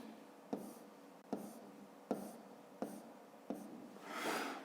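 Pen writing on paper while working a school maths exercise, heard as five short scratchy strokes in a steady rhythm, each starting with a light tap, then a longer, softer scrape at the end, close and alone.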